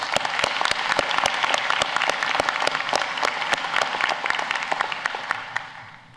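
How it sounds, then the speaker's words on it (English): Sustained applause from a large audience at a medical school white coat ceremony, with crisp individual claps standing out of a full, steady roar that tapers off at the close. "Let's give them a round of applause."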